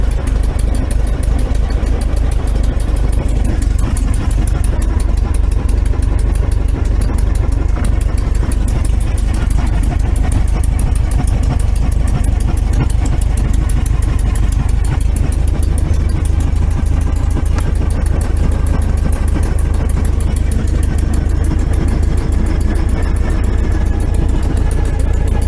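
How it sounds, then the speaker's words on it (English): A 1303S engine fitted with Weber carbs idles roughly and not on all four cylinders, giving a loud, continuous, uneven rumble with a steady throb that fills the whole stretch, nothing else heard over it. "It's not firing on 4 cylinders."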